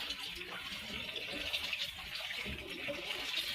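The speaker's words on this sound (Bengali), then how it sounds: "সরষের তেলটা দিচ্ছি আমি চালতাটা ভাজার জন্য" Mustard oil pours into a frying pan, a soft, faint liquid trickle and hiss running steadily throughout.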